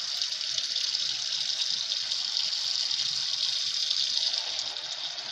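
Water runs in a steady, close gush for the whole stretch, rinsing dirt and debris from freshly harvested, dried peanuts.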